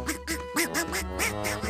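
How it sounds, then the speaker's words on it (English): A cartoon duck quacks in a quick run of about seven nasal, rhythmic quacks, close and clear with no talk over it. "It's a duck."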